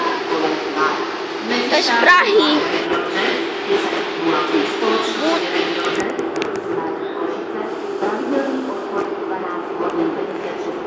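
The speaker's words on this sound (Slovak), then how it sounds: "To je krásny vlak." A RegioJet passenger train rumbles and hisses steadily at fairly close range, a dense mechanical roar under clear conversation in Slovak and Czech.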